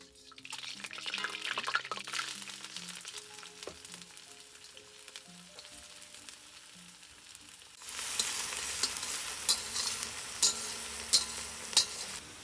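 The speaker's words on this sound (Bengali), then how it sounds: "প্রথমে কয়েকটা আস্ত জিরা দিয়ে একটু ফোড়ন দিয়ে নিলাম" Whole cumin seeds crackle and sizzle in hot oil, a steady frying hiss with faint pops and stirring that grows louder and brighter partway through, with a few sharp spits near the end.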